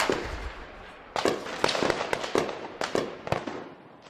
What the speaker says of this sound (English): Shortly after, the shooting started.